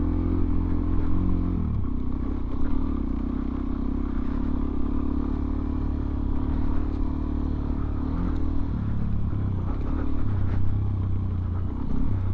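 A Suzuki DRZ400SM motorcycle rides on an off-road track, its engine droning loud and close, with the pitch shifting as it speeds up and some clatter over wind noise. No talk is heard.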